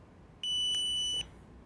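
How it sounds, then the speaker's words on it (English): A single high electronic beep from a TST 507 Series TPMS tire pressure tool as its mode button is held, steady and clear, lasting under a second against quiet background. "hold the mode button, M-O-D-E button, down until it beeps"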